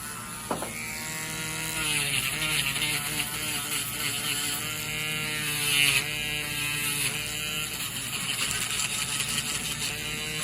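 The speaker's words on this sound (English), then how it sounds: "Now we'll get the Dremel and then get you cleaned up." Dremel rotary tool whirring close by as it grinds down a thick fungal toenail, its high buzzing pitch repeatedly dipping and recovering as it bears on the nail, no talking.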